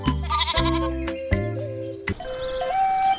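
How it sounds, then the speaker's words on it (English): Goat bleating in a mountain setting, several loud wavering bleats in quick succession, close and clear, followed by softer background tones and a thin chirp. "The goat."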